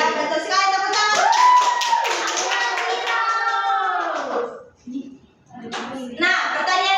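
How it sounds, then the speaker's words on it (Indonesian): Schoolchildren in an Indonesian elementary classroom clap together, with excited young voices and chanting over the claps for several seconds before a brief lull and a renewed burst. "tepuk tangan"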